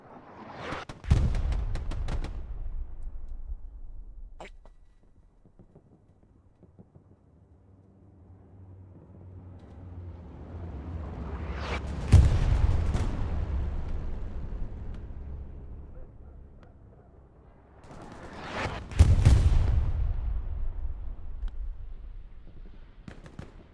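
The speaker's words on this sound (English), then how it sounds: "Here, both teams' artillery are actually doing a really good job at locking down points of interest." Artillery and gunfire sound off in a Hell Let Loose match: a few heavy booms with long rolling decay, sharp shots between them, and a distant low rumble in the background.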